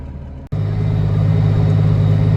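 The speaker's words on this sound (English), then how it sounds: "how do I drive this tractor manually?" A farm tractor's engine idles and runs steadily after a brief click, a loud low droning hum with a constant pitch and no voices.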